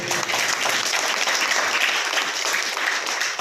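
A church congregation claps together in a loud, sustained round of applause that stays steady and dense from start to finish.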